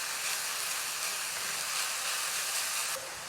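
Shallots sauteing in a pan for salad dressing, a steady bright sizzle and hiss heard close up and alone, dropping slightly at the end.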